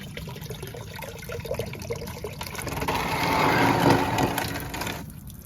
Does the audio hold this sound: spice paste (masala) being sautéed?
no